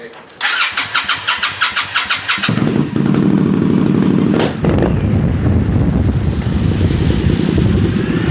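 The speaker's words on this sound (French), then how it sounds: "Et ça c'est ma moto." A motorcycle engine starts with rapid sputtering bursts, then settles into a loud, steady rumbling idle close by.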